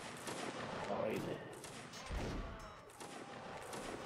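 Musket volleys crack out in a Napoleonic Wars line battle game, a broad rolling burst of gunfire with a heavy thump near the middle, continuous battlefield noise throughout under faint voices.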